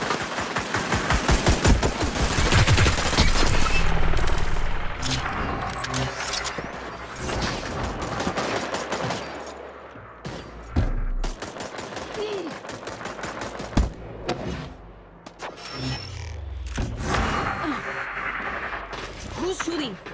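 Rapid automatic gunfire rattles through a shooter video game in dense bursts, loud and continuous at first and then breaking into scattered shots and short volleys, with game sounds and some voices mixed in.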